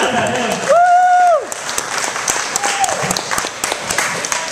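An audience claps for a comedian taking the stage at a stand-up show, loud applause and crowd noise washing through the room while a few voices and whistles rise over it.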